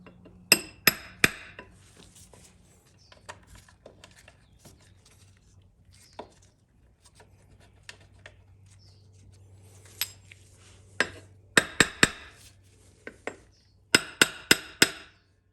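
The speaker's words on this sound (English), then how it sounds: "use a hammer and a drift to tap it where you need it to go" A hammer strikes a metal drift to tap a part of a Ford C6 automatic transmission into alignment during rebuild: sharp metallic taps in quick bursts of three or four, with quieter handling noises between.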